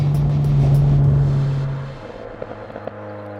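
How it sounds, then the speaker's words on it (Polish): An Alpine A110 sports car's engine roars loudly, then fades as the revs drop, leaving a handful of sharp exhaust pops crackling near the end. "dzięki tym strzałom z wydechu, które naprawdę bardzo łatwo jest sprowokować"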